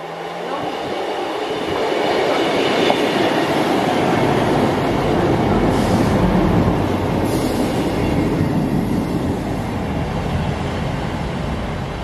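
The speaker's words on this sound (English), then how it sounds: "The 1330 East Midlands Railway service to Lincoln Central." An East Midlands Railway passenger train rumbles past close by, loud and continuous, with rolling wheel noise and a faint metallic squeal rising over the steady roar.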